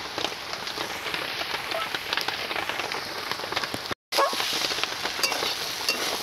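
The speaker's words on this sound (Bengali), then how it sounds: "ভালো করে নেড়ে চেড়ে নিচ্ছি," Banana flower curry with poppy seed paste, turmeric and sugar sizzles in a pan while being stirred, a close, continuous crackling fry with soft scraping and one brief silent break.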